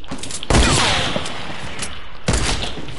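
Rifle gunfire in an online shooter video game, heard as two loud, sharp bursts of shots, the second about two seconds after the first, with reverberant tails in between.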